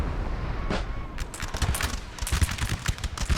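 Enemy musket volleys crackle in ragged bursts during a Napoleon Total War battle in an Ottoman campaign, sharp shots quickening and overlapping into a loud rolling fusillade.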